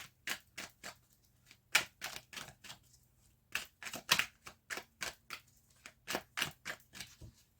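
Tarot cards being cut during a card reading, heard as a rapid series of crisp papery slaps and flicks, about two dozen sharp strokes in quick uneven bursts, close and fairly quiet, with no talking.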